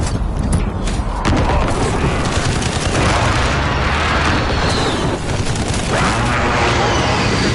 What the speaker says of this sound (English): Friendly precision airstrike.